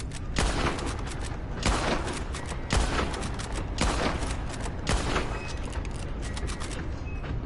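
Gunfire in the Wild West game Red Dead Online: a rapid, continuous volley of loud shots over a dense rumbling bed, with stronger blasts at roughly one-second intervals and no voices heard.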